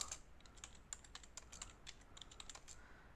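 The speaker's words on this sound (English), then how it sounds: "If you can hear me typing on the computer" Quiet, rapid clicking of computer keyboard keys being typed on, irregular bursts of taps close by with no voices.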